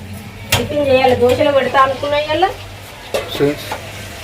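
Fenugreek, cumin and mustard seeds sizzle and crackle in hot oil in a pan, loud and close, with stirring and a few sharp clinks.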